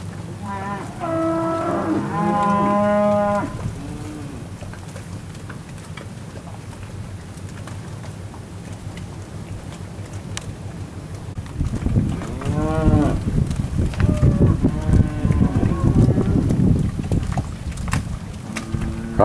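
Steers at a cattle auction moo in a clear, drawn-out call near the start, then several more lowing calls build later over a steady background hum of the sale barn.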